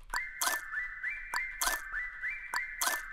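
Layered whistle sample pitched an octave down in music production, a repeating whistled phrase of short rising glides over a looping beat of sharp clicks and noisy hits, evenly rhythmic and fairly close, with no voices.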